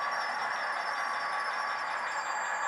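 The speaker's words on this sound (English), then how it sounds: "The train is going across it right now." A model train runs across the lift-out section of a home layout, giving a steady, continuous rolling whir and hum at close range with no talk over it.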